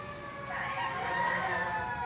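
A rooster crows once in a single drawn-out call, moderately close, against a faint background with no talking.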